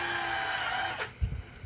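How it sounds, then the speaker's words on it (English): A power drill with a pilot bit bores through a piece of wood on a workbench, giving a steady high whine that cuts off abruptly, followed by a few low thumps. "Now I'll take my drill and the pilot bit"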